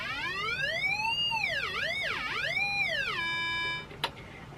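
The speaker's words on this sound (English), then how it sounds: "So, I have a function generator." An electronic tone from a speaker sweeps up and down in pitch, glides through several swoops, then holds steady before a sharp click.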